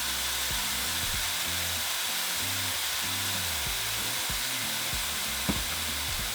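Salt-seasoned ground meat sizzling in a hot pan, a loud, steady, close hiss that carries on without a break and with no one speaking.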